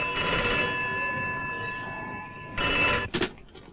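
A telephone rings with a steady electronic bell tone, one long ring, a short gap, then a second ring cut off abruptly as it is picked up.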